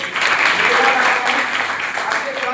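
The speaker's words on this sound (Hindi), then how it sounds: "पर अपने लिए जोरदार ताली बजाइए।" A college audience at an anti-addiction pledge campaign claps loudly and continuously, with voices mixed into the steady applause as it gradually softens.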